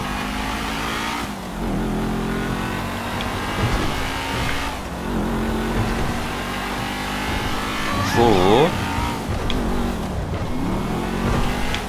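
A car engine in the GTA 5 video game revs and drones continuously while driving, rising and falling in pitch with gear changes, loud and close, with someone talking over it.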